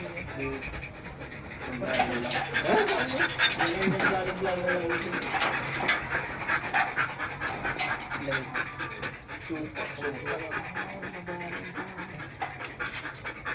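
A dog pants quickly and steadily up close, now and then giving a soft whimper, while people talk over it.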